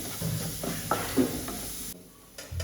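Onion with ginger garlic chili paste and salt sautéing in a pan for gravy, a soft hiss broken by a few stirring scrapes, fading to near quiet toward the end.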